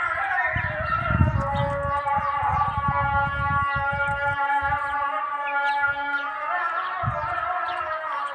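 Several young chickens, some turning out to be roosters, chirp and peep in steady, overlapping calls close by, with occasional louder squawks and low rustling beneath.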